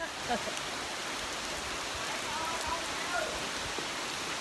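Steady heavy rain pours down during a storm, a dense continuous hiss of drops on surfaces filling the whole stretch with little variation.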